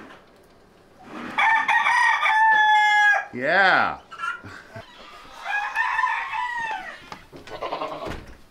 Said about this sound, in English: Those Polish roosters. You're pretty looking, you're funny looking, pretty looking, but you're loud sometimes.